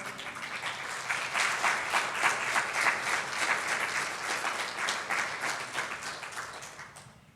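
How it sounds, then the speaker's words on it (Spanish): A church congregation at a Spanish-language service gives a sustained round of applause, dense rhythmic clapping that holds strong for several seconds before fading out at the end. "Dale una ofrenda de palmas al Señor"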